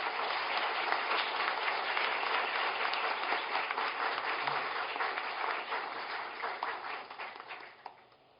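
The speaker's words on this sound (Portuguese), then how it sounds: "para quem eu peço um aplauso efusivo" An audience at an academy induction ceremony applauds, with dense, sustained clapping that fades slightly toward the end.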